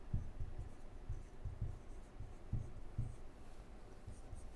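Chalk or marker writing out a math proof on a board, a faint series of soft scratching strokes in an uneven rhythm, taps and scrapes spaced a fraction of a second apart in a quiet room.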